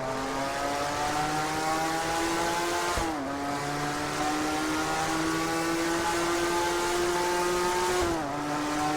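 A race car engine drones at Sebring in the Total Immersion Racing video game, holding a high, steady whine that dips twice at gear shifts and then climbs again, loud and continuous.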